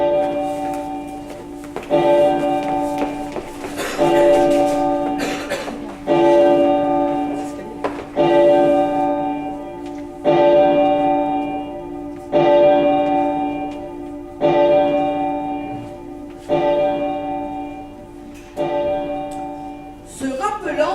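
Church-like bells ring midnight in a Cinderella Christmas stage play in Vence, sounding as about nine loud, evenly spaced strikes, each ringing out and decaying before the next.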